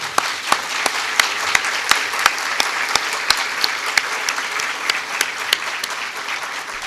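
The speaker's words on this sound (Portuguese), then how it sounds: "eu vou pedir uma salva de palmas pelos 74 anos" Audience applause at a lecture on spiritual care at a Spiritist center, celebrating a 74th anniversary; sustained crowd clapping with a few sharper, louder individual claps standing out in a fairly regular rhythm.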